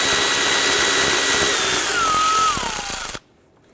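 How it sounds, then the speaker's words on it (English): A power ratchet spins out a 10mm bolt at the back of a 2001-2005 Honda Civic engine, a steady close whir whose pitch sags near the end before cutting off abruptly into silence. "And remove our 10mm bolt in the back here."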